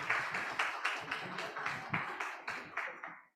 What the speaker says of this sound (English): Please everyone give a round of applause.